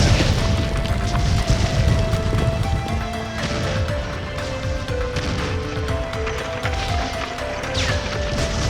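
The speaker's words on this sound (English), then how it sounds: "there was a huge explosion and the roof was destroyed" A loud explosion destroys a roof in an animated telling of Mulan, a heavy booming crash that rolls into a long stretch of rumbling, clattering debris.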